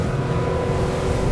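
Haines Hunter 650R boat driven by a Yamaha F225 outboard accelerating hard over a wave in rough water, a loud, steady engine roar with rushing water and wind, close and continuous.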